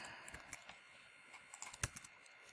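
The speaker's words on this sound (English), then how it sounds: "I'm going to type in" Faint typing on a computer keyboard as a filename is entered, soft scattered keystrokes with a quicker cluster of clicks near the end, no speech.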